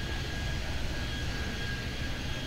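A steady airplane engine roar hums along continuously at moderate level in the airport game Airport Madness 3D, set at O'Hare, with no talking over it.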